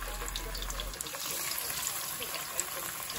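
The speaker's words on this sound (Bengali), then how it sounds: "আমি জাস্ট এখন ভালো করে ধুয়ে নিয়েছি" Kitchen tap water running steadily while fish is being washed, a constant hissing stream close by with faint splashes and trickles throughout, a low hum dropping away after the first second.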